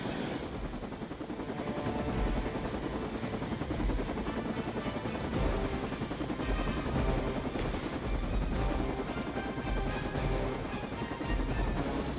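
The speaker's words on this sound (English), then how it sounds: "The helicopter is about to leave." A helicopter in the video game Marvel's Midnight Suns drones steadily with a dense, continuous rotor and engine roar that stays loud throughout.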